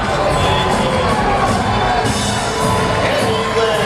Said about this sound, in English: a big roar went up in this crowd